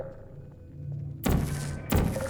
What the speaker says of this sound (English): Vital testing apparatus destroyed.